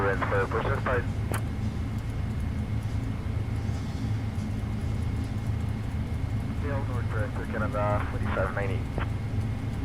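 Cargo aircraft engines idle and whine steadily during pushback and taxi in a flight simulator game, a constant low drone under intermittent radio and cockpit voices.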